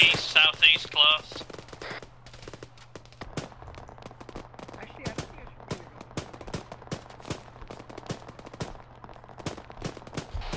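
Gunfire in the video game Arma, with a rapid burst of automatic fire at the start followed by sharp, irregular single shots echoing at mid distance over a steady low hum, without talk.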